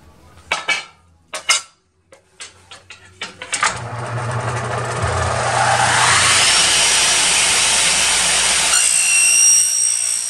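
Power saw cutting an aluminium window profile: a few sharp clatters and knocks, then a loud, steady whine rising as the blade bites through the metal for several seconds, close and alone.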